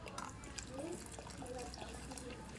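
Water splashes and trickles steadily into a cooking pot, a soft continuous pouring with faint background murmur.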